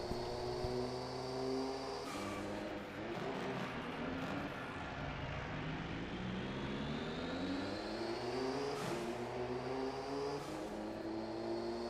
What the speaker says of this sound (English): Is this car turbocharged? Because it sure sounds like it.